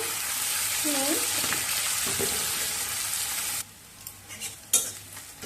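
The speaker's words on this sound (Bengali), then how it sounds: "এবার দেব পাতলা পাতলা করে কেটে রাখা পেঁয়াজ পেঁয়াজটা দিয়ে দেব" Thinly sliced onion frying in oil, with a bay leaf, for a traditional rohu fish curry: a steady broad sizzle with stirring scrapes runs for most of the stretch, then drops away to quieter clinks and brief stirring sounds.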